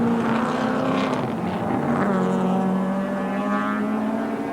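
Group C touring cars from 1984 race at Wanneroo Raceway, engines droning loudly and continuously, pitch sliding and shifting as cars brake into a corner and pass close by.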